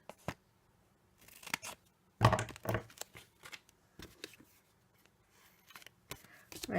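Several crisp snips and rustles of scissors cutting paper, in short irregular bursts with quiet gaps between them, close by.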